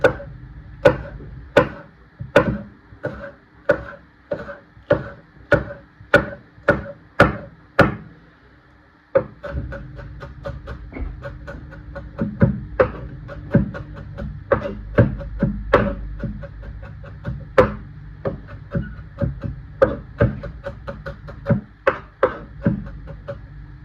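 A knife dices red chilli on a wooden board in a steady run of crisp, close knocks, first sparse and clean, then quicker rapid chopping over a faint background hum, with no talking.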